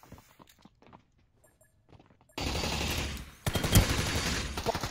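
Gunfire in the online shooter Ring of Elysium: after quiet shuffling footsteps, a loud dense burst of shots erupts and runs on, with a sharp louder crack near the end.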